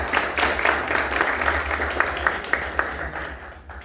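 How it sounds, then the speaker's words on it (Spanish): An audience at an art fair in Resistencia, Chaco, gives a round of applause, dense overlapping clapping that holds steady and then tapers off toward the end. "¿Le damos un aplauso?"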